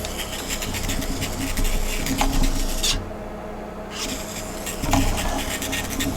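A small DC electric motor runs on a 12-volt supply with a steady, whirring buzz and faint scraping texture, briefly cutting out for about a second before spinning back up, close and without talk.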